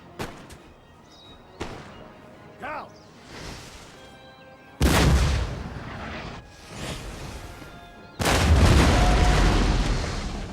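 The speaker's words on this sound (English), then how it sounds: "up the pressure by firing your cannons at the enemy" Several heavy booming cannon blasts from the video game Napoleon: Total War go off one after another, loud and close, the later ones long and rumbling, with quieter sharp shots between them.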